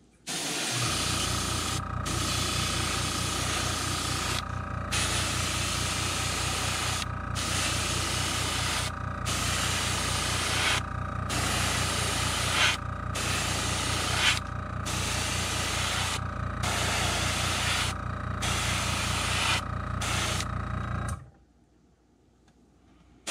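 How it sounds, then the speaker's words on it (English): Airbrush steadily spraying paint onto a crankbait fishing lure, a continuous close airy hiss broken by short regular pauses as the trigger is released, alone with no voices, stopping abruptly near the end. "And we're going to angle spray this from the back."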